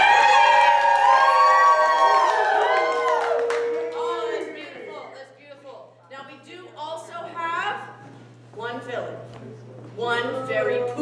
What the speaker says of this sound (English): So let me hear a hero cheer